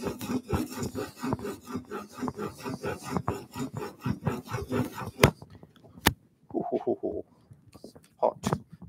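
Rhythmic rasping strokes of a woodworking tool being sharpened on abrasive paper, quick repeated scrapes for about five seconds, then sparser rubs and scrapes; close and fairly loud with no speech.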